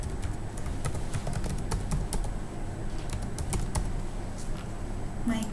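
Rapid keystrokes on a computer keyboard while filling in a WordPress contact form, a steady close patter of clicks running throughout with a few sharper taps.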